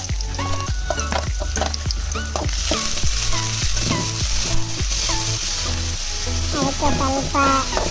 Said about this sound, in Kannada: ಮೊದಲು ಸ್ವಲ್ಪ ಈರುಳ್ಳಿನ ಹಾಕಿ ಸ್ವಲ್ಪ ಸಾಸಿವೆ ಹಾಕಿ ಫ್ರೈ ಮಾಡಿ